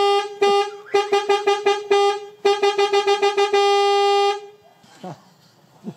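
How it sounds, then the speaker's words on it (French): A bus being converted into a camper van sounds its horn in a series of loud, close honks, first short rhythmic toots and then a long sustained blast, followed by quieter rattling. "Klaxon."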